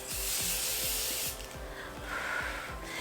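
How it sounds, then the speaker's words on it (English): A steady close hiss of Kenzoki Lotus Water facial mist spraying from a spray bottle, continuous for over a second, followed by softer rubbing and rustling. "I'm going to use this Kenzoki Lotus Water Spray"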